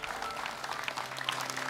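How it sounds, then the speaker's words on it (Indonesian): A studio audience at Hafiz Indonesia 2015, a televised Quran memorisation competition, claps for a young contestant and her mother. The applause is brief, moderately loud and fairly close, with crisp individual claps. "Boleh tepuk tangan untuk Aulia dan mamanya."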